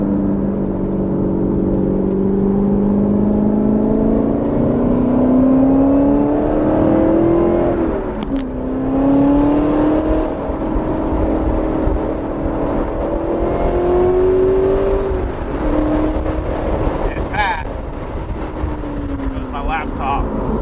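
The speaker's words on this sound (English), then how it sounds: "Get a little bit of windows down sound." A carbon 1965 Corvette Z06 engine hums and rises through the gears while wind rushes steadily past open windows, with a brief rattle partway through.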